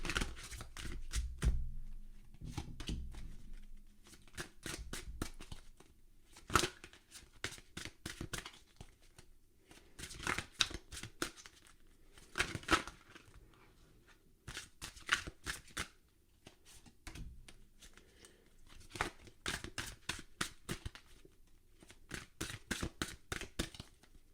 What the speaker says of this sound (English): just shuffling these cards